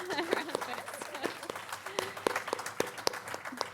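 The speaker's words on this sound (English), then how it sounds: "I'll give Kathryn a round of applause" Audience applause for a panel speaker at an insurtech industry conference, heard as loose, scattered claps with a thin, uneven rhythm over a few seconds, mixed with faint room chatter.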